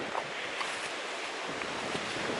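Steady wind roars across an exposed ridge near Thunderhead in the Great Smoky Mountains on the Appalachian Trail. The broad, unbroken rush buffets the microphone throughout, with no voices.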